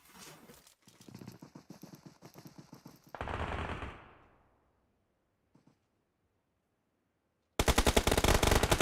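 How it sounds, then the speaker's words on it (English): Rapid automatic gunfire in a battle royale video game scrim, dense bursts of close shots, a short loud blast fading out, near silence, then another loud sustained volley at the end. "Nice shots there from 2Tool"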